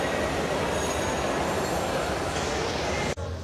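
Titas Commuter train standing at a platform in Kamalapur station, a steady, loud rumble of rail noise that runs throughout and then cuts off abruptly near the end.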